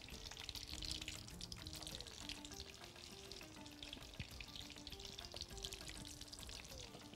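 Cauliflower frying in about a cup of oil with butter cubes, a steady dense sizzle running throughout at moderate level, with faint tonal background music beneath and no talk.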